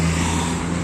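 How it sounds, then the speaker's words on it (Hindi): Steady road traffic rumble on a road near Murree, Pakistan, where cars come from the wrong side, with a continuous close engine drone and no voices. "ये देखें पाकिस्तानी स्टाइल में आ रही है ट्रैफिक, रॉन्ग साइड से आ रहे हैं"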